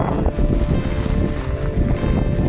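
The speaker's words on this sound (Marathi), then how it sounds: "वारा भरपूर मारतो." Strong wind roars and gusts against the microphone in heavy, continuous rumbling bursts, loud and close, with no one speaking.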